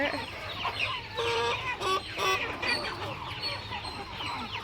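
Chickens cluck and squawk in scattered bursts, several birds close by, over a low background hum.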